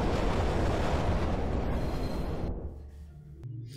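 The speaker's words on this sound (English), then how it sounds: "I better move, I hear another train coming." A subway train in the game Condemned: Criminal Origins thunders past as a loud, roaring rumble of wheels and carriages that quickly fades away, ending with a short metallic clank in the quiet that follows.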